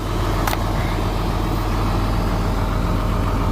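A farm tractor's engine idles steadily, a loud continuous rumbling drone up close with no talk.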